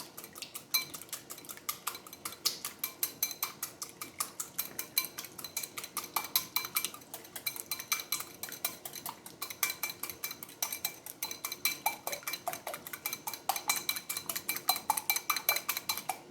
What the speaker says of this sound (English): I think I'm going to go ahead and whisk these eggs in here.